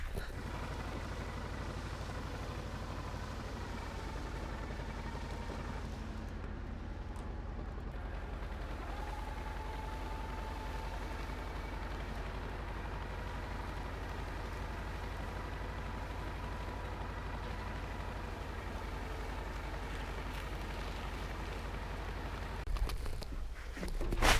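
A tractor engine rumbles steadily and close as the machine drives off to plough a field, a constant low drone with no talk, swelling briefly near the end.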